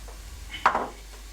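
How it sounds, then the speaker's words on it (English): A single short scrape and clink of a utensil against a pan while curry paste is mixed into onions, one brief near sound over quiet background. "Mix that in, and then we're going to turn the heat off on that."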